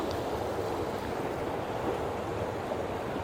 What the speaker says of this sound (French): je te montre quand même le ruisseau là